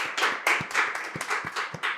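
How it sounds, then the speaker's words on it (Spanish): A few people clap in a brisk, uneven rhythm at close range, about a dozen quick claps to welcome a guest on stage, with no talk over them. "recibamos con un fuerte aplauso a Michael Santiago"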